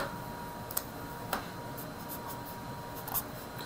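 A pen or marker writes a circuit equation for loop 2 during an electrical engineering lecture, heard as a few faint, scattered taps and short scratchy strokes over a steady low room hiss, with no one talking.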